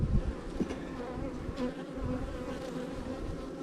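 Honey bees swarm around an open hive in May, their dense, steady buzzing and droning filling the air at close range throughout, with no voices.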